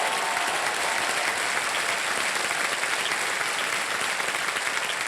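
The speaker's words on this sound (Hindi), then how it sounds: "तालियां बज जाए हमारे कंटेस्टेंट को।" A studio audience claps for game show contestants, dense, even applause holding steady throughout.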